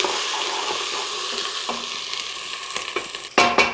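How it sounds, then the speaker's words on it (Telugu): Ginger garlic paste sizzling and frying in oil in a pan for mutton bone broth shorba, a steady close hiss with faint stirring scrapes, then a louder burst of crackle near the end. "ఈ టైంలో అల్లం వెల్లుల్లి పేస్ట్ కూడా వేసి వేపాలి"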